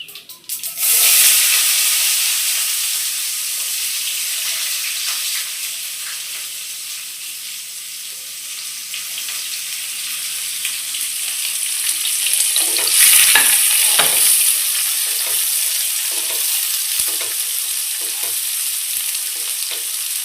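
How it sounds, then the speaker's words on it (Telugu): Onions frying in hot oil in a pan for a potato curry, a loud, continuous sizzle close by, with the scrape and clatter of stirring toward the end. "ఉల్లిపాయ కొంచెం ఎర్రగా వేగాలండి"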